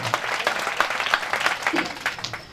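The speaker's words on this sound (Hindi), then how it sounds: "एक बार दोनों हाथ उठाकर पीछे तक जोरदार तालियों से अभिनंदन करें" A crowd at a Hindu temple consecration festival claps loudly together, with distinct, fairly quick claps rising and falling in a close, lively burst.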